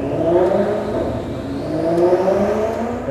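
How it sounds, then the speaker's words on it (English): Maserati engine exhaust revving, a continuous loud rumbling drone with shifting harmonic tones, rising and falling slightly in intensity throughout, with no voices. "an ambient track featuring Maserati exhaust"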